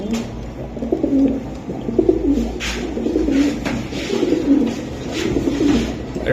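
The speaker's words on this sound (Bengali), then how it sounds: "এটা সিলভার কবুতর, সিলভার, হ্যাঁ? দানব কবুতর।" Silver Giribaz pigeons coo continuously at close range, their low rolling calls overlapping in a steady, rhythmic chorus with faint bird chirps in the background.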